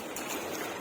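Fast-flowing river water, rushing steady and close as a brief continuous hiss, with no voices.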